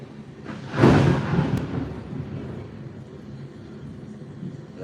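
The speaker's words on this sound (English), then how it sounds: "That was real thunder," A real thunderclap breaks out loud and close, then rolls off into a long, fading rumble that lingers through the rest of the moment.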